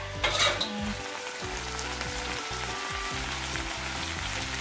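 Blue crabs stir-frying with ginger and garlic in a hot pan, a steady loud sizzle and crackle throughout with a brief burst of louder spitting near the start.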